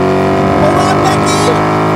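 A Ford Mustang GT 5.0 with a manual transmission accelerates, its engine note rising steadily and loud throughout the two seconds with a dense harmonic drone, while a voice speaks faintly underneath.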